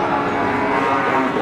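Cattle lowing at a cattle market, a loud sustained moo filling the moment amid dense crowd and market noise.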